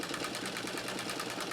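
A White Rotary treadle sewing machine, tuned and oiled, runs in a smooth, steady, fairly quiet whir with a soft regular pulse, heard alone and close up.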